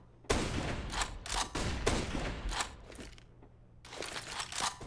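Gunfire in Counter-Strike on the Mirage map during a professional match, a cluster of sharp rapid shots followed by another burst after a brief pause, fairly close.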